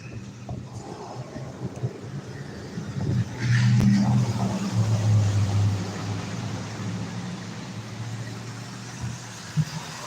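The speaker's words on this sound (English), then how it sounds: "You see these cars, they don't even slow down even when it's wet out here." Cars pass on a wet road with a 35 mph limit, their tyre hiss and engine rumble swelling to a loud passing roar near the middle before fading, under wind noise.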